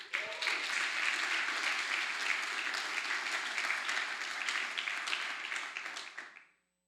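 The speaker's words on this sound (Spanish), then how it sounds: "¿cuántos le pueden dar un aplauso a Jesús?" A church congregation claps in a full, even burst of applause that holds steady for several seconds before cutting off abruptly.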